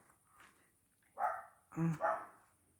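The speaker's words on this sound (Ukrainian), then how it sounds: "Десь хтось гавкає і вона з ними розмовляє." Neighbours' dogs bark outdoors in a garden, a few short barks in separate bursts at moderate distance, with a soft voice faintly present in the background.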